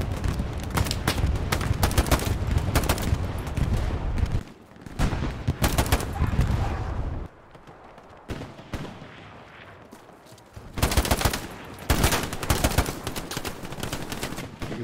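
Bursts of rapid gunfire and loud shots in the World War II shooter Hell Let Loose, heavy at first, dropping to sparse distant shots in a quieter stretch, then returning as dense close firing.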